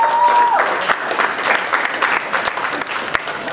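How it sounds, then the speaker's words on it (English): Audience at a convention abridging panel breaks into loud, dense applause that holds steady for a few seconds. A brief tone sounds at the very start. "That's more applause than I was expecting"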